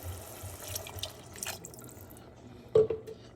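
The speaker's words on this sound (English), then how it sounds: "I'm going to now add about a cup of water" A cup of water poured into potatoes cooking in a pan for railway-style aloo sabji, a brief close splash and hiss near the end after quieter kitchen clatter.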